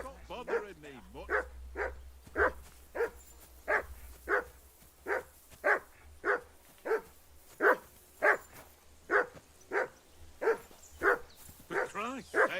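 A dog in the video game Kingdom Come: Deliverance II barks in a steady repeated rhythm, around twenty evenly spaced sharp barks with a few whimpers, over a low rumble and brief voices.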